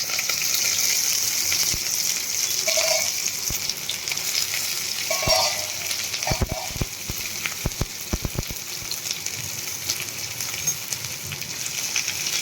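Cabbage and chillies fry in a mustard seed tempering with a steady hiss and sizzle, and sharp pops and clicks of stirring bunch up near the end.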